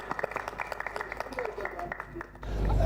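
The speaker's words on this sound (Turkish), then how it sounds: "kırkımcılarımız için bir anda büyük bir alkış istiyorum" Crowd applause for sheep shearers at a shearing competition at an agricultural fair: a run of scattered hand claps under a man's speech over a loudspeaker, ending in a louder, rumbling noise.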